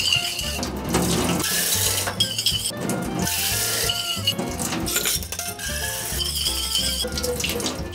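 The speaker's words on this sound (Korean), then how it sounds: "얘 집을 먼저 세척을 한번 해주도록 하겠습니다" Tap water runs and splashes while a glass container for marimo moss balls is rinsed, with a steady gush broken by clinks and knocks of glass against the sink. No one speaks.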